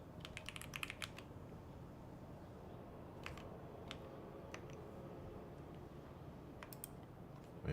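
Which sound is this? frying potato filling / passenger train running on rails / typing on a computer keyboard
typing on a computer keyboard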